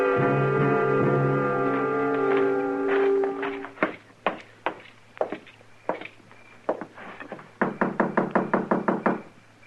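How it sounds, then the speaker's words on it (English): A held musical chord from an old-time Gunsmoke radio drama fades into a series of knocks on a door, first scattered single raps and then a quicker run of knocking. "I thought I heard somebody knock."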